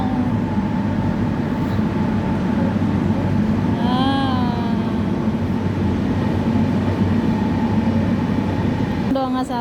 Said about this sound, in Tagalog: Haba ng train, no? International train yan.